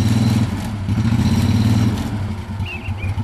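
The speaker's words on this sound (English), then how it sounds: "The unit's powered by a Kohler 20 horsepower V-twin gas engine" A Kohler 20 horsepower V-twin gas engine on a 2007 Cub Cadet Volunteer 4x4 utility vehicle idles nearby with a steady, throbbing, slightly uneven chug and light mechanical clatter, loud and continuous without any talking.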